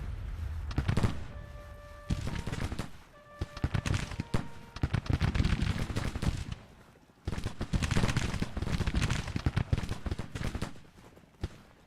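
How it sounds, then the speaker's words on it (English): Volleys of musket fire crackle in dense bursts at a regiment in the Civil War strategy game Grand Tactician. The shots are near and far and come in repeated clusters with short lulls between them. "now we're taking fire on this regiment"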